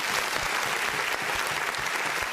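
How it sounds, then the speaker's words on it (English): Steady, loud audience applause at a church gathering, continuous dense clapping throughout with no speech over it. "give the Lord a round of applause for that thing right there"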